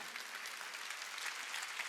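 Continuous applause from a church congregation during a Sunday worship sermon, a steady dense patter of many hands clapping that holds at an even level for the whole stretch, with no voices over it.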